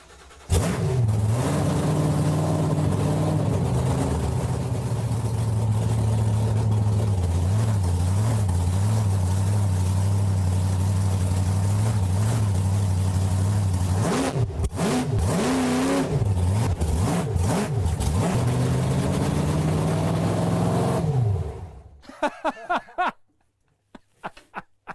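The world's fastest tractor, a heavily modified machine, runs loud and close, its engine holding a steady roar before revving up and down in sharp swells, then cutting off abruptly near the end, leaving a few faint clicks.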